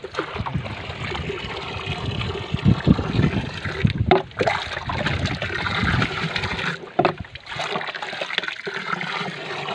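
Water is scooped and splashed by hand into a tilapia pond to aerate it, giving close, irregular sloshing and splashing bursts with brief pauses and no speech.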